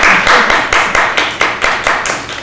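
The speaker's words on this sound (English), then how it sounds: "give her some applause right now" Studio audience clapping on a morning talk show, a few pairs of hands beating in a quick steady rhythm, close and fairly loud, with no talk over it.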